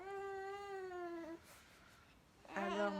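Domestic cat meowing indoors, a long drawn-out yowl, a short pause of quiet room tone, then a second louder meow starting, close to the listener.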